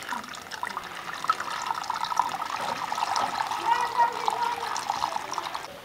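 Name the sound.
pouring half a litre of water for seed treatment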